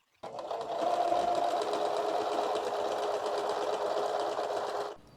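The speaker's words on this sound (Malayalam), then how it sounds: "അപ്പൊ നമ്മൾ ഇന്റർലോക്ക് ചെയ്ത് കഴിഞ്ഞു." A sewing machine runs an interlock seam along the side of a churidar in one steady, continuous burst of about five seconds, close and even, with no talk over it.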